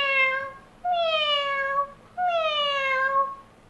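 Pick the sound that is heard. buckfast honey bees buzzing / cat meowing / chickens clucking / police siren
cat meowing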